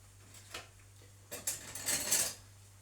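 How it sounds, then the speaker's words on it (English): A fork stirs sourdough starter made from potato in a bowl, giving faint scattered clinks and scrapes that grow busier toward the end, with a steady low hum beneath. "and use my fork, give it a mix"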